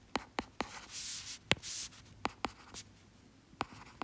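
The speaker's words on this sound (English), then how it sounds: "So let me just write that down." Pen strokes scratching quickly across paper as notes are written down, a series of short, close, crisp ticks and scrapes with brief longer rubbing passes, no talking.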